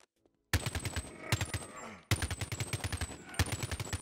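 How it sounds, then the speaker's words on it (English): Rapid automatic AK-47 rifle fire in a Boneworks mod, several loud, close bursts of evenly spaced shots separated by short pauses, with no talking. "Farah's AK-47, also known as Revolution."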